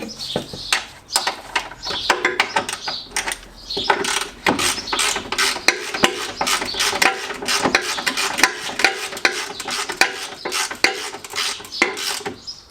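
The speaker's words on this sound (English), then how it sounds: "Get the nut on, spanner on the nut." A spanner works a nut onto a Peugeot suspension bush, giving a run of repeated metallic clicks and rasping ratchet-like turns that sound close and fairly loud, with no voices.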